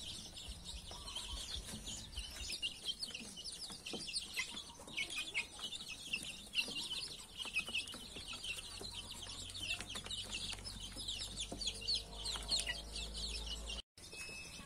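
Chicks peeping and clucking busily while being fed cooked rice, a continuous chorus of many small birds chirping near and bright, with a low hum underneath and no talking.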